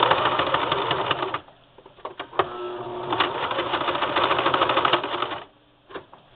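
Sewing machine zigzag stitching around the edges of a spool knit rug, with dense rapid mechanical chatter in two long bursts split by a short pause and brief clicks, close and loud.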